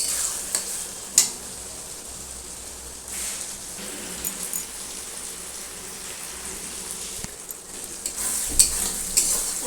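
Masala for ghugni sizzles in oil in a pan while being stirred, a low steady frying hiss broken by occasional scraping clinks of the spoon.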